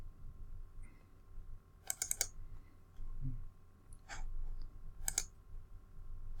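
Short bursts of sharp computer mouse clicks, several in quick clusters, close and fairly quiet over a low steady background hum, with no one talking.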